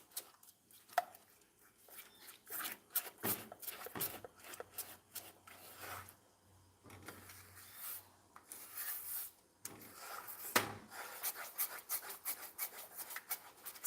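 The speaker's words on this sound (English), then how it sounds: "So make sure to stir it, always remembering to scrape." A spoon stirs and scrapes sweetened condensed milk in a pan on the stove, making repeated close rubbing and scraping strokes in uneven bursts, with no talking.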